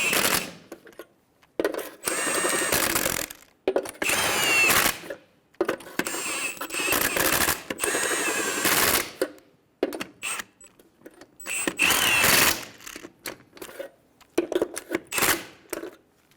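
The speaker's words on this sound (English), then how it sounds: "Snug down the lug nuts." Bursts of rapid ratcheting rattle from a tool snugging down lug nuts on a Toyota Tacoma wheel, each burst lasting one to two seconds, separated by short silences, close and loud.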